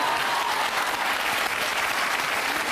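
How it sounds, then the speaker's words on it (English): Steady, dense applause from a television talk show studio audience, loud and continuous throughout with no gaps, a few faint voices buried in the clapping. "we can clap for that"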